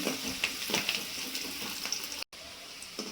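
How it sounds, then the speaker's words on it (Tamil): Curry leaves sauté in a pan for a bean and egg stir-fry, giving a close, steady sizzle with light stirring clatters. The sound drops out for a split second near the end. "கருவேப்பிலையும் போட்டுக்கலாம். நன்றாக வதக்கி விட்டுக்கலாம்."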